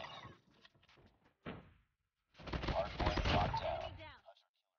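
Bursts of gunfire in the mobile game Call of Duty Mobile: a short volley, a pause, a single shot, then a longer rapid automatic string, with a voice talking between the shots.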